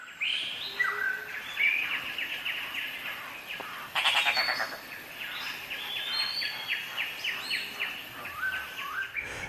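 Layered bird calls and chirps from several birds in a Laos forest, including great hornbills, steady and moderately distant, with a brief burst of louder noisy calling partway through.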